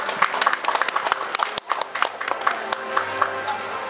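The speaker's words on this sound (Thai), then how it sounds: "ปรบมือให้ท่านดีด้วยครับ" Crowd applause at a seven-a-side football tournament semifinal in Thailand; dense, continuous clapping from a crowd, fairly loud and close, with a brief gap partway through and some background crowd noise.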